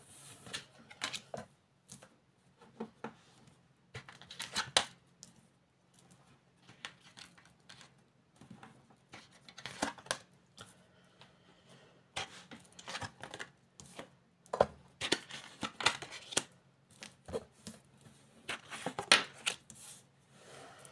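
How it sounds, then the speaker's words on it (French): Cards being placed and flipped over on a table, a quiet, irregular series of soft slaps and flicks in close, scattered bursts with pauses between. "je place mes cartes correctement, je les retourne"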